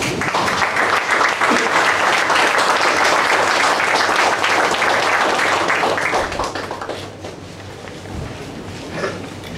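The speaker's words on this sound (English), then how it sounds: "I request all of you to stand up and give a round of applause" Loud, dense applause from a room full of people fills several seconds, then fades as the clapping tapers off near the end.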